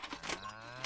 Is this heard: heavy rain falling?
no